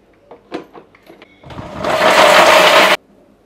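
A mixer grinder whirs loudly as it blends coriander, ginger, green chilli, garlic, tomato and fresh coconut with a little water, running in one sustained burst after a few light clinks and knocks, then stopping abruptly.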